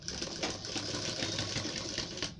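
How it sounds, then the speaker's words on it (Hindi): A sewing machine stitches a border onto a neck design, a steady fast rhythmic whir and clatter running continuously, close and loud, with no talking. "तो खोल कर यहाँ पर इसमें सिलाई लगा देंगे हम ऐसे"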